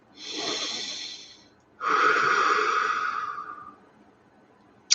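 Two deep, drawn-out breaths taken during meditation, a long inhale followed after a pause by a longer, raspy exhale, close and alone, ending with a faint click.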